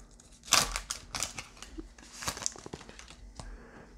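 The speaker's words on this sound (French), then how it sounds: "Ça déchire bien mal, ces boosters-là." Pokémon card booster packs being torn open by hand, with sharp crinkling and ripping foil bursts in quick clusters, close and fairly loud, no talking.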